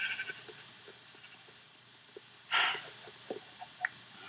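A single brief, fairly loud moo from cows herded into a new enclosure in Minecraft stands out against faint game ambience and soft scattered clicks.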